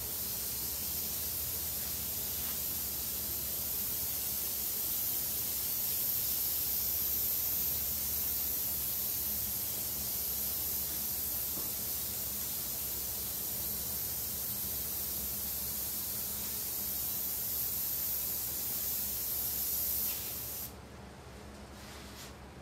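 An aerosol spray can of Bulldog primer mists a light coat onto fishing lures in one long, steady, close hiss lasting about twenty seconds before it cuts off abruptly.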